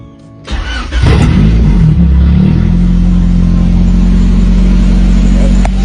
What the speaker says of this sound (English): Give you guys a quick startup.